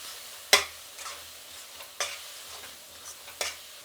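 Spices and masala sizzle in a pan for egg dum biryani, a soft steady fry broken by several sharp scraping stirs of a spoon against the pan, near and fairly quiet.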